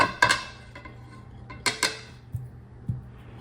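A pastry cutter chops salted butter into icing sugar for lemon bars, giving sharp, scattered metallic taps and clinks against the bowl, a few at a time with quiet gaps between.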